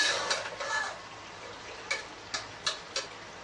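Masala fries in oil in a pan for an intestine (butt) curry while being stirred, with soft sizzling and several faint, light spoon taps and scrapes at an uneven pace, without talk.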